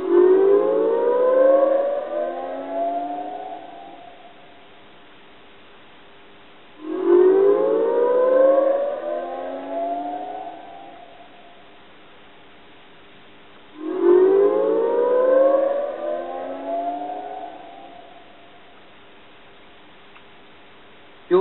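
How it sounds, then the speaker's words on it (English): Loudspeaker polarity test noise from a Deutsche Grammophon studio test record plays three times, about seven seconds apart. Each is a loud swept burst that starts bright and dies away, with silence between. "You will now hear a sound 3 times. If the loudspeaker units are correctly polarized, it will commence between the loudspeakers and finish up in the room."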